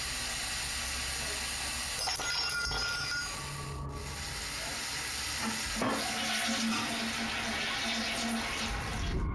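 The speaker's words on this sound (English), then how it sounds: "The faucet turns on full blast sometime later, while something flings into the sink." A sink faucet runs at full blast, a steady broadband rush of water that carries on throughout, with faint knocks and rubbing noises mixed in and no voices.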